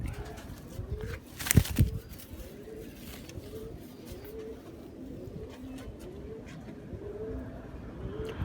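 Golden pigeons of an original golden colour coo close by in a steady series of soft, rounded low calls repeating about once a second, with one short loud knock near the start.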